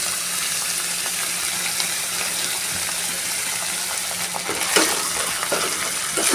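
Almond and poppy seed paste is fried and stirred in a pan with fried ginger for a rohu fish rezala, a steady loud sizzle with occasional scraping spoon strokes, no talking.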